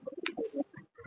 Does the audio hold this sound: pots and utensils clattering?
no